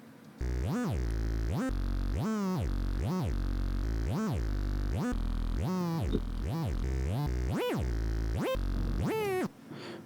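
A thick, buzzing Reese wavetable synth bass pulses in a repeating pattern, its tone sweeping up and down with each note, loud and continuous.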